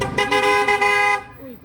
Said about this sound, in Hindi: इतनी ज़ोर से हॉर्न दे रहे हैं।